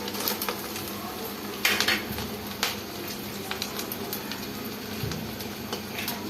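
An egg fries in a pan at home, with steady soft sizzling under scattered clinks and knocks of utensil against the pan.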